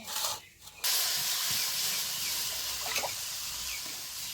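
Water poured into a hot pan of cut jackfruit for boiling makes a sudden, loud, steady hiss of steam and spray after a brief, quieter burst, and it continues with faint bubbling.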